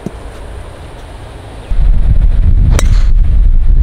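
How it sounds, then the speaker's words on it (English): Gusty wind buffets the microphone on an open golf course at Royal Johannesburg Golf Club. A low roar starts softly, then rises sharply partway through and keeps blowing strongly, with no talk. "Getting windy out here, guys."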